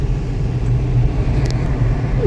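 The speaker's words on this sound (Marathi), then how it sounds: "ड्रायव्हर गाडी चालवत आहेत." A car drives along the road toward Marleshwar near Ratnagiri, heard as a steady, loud low engine and road rumble from inside the vehicle with no talk.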